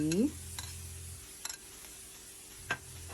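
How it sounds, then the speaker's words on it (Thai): Pork with carrot and three-colour bell peppers is stir-fried in a pan: a soft, steady sizzle with a few sharp spatula clicks and scrapes spaced out across it. "แล้วก็ผัดให้เข้ากันนะคะ"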